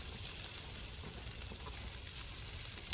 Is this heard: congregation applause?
no